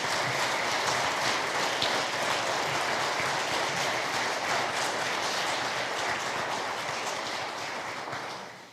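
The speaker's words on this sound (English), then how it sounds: "So with that, a round of applause for those three individuals." An audience at a city address event applauds for three honorees, a dense, sustained wash of clapping from a large crowd that holds steady and then tapers off at the end, with no one speaking.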